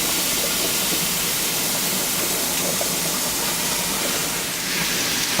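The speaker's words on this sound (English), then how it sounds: "our ground beef, and we'll start browning it, that and the sausage" Ground beef and sausage sizzle steadily in a hot pan as they brown, a continuous loud hiss with no break and no talking.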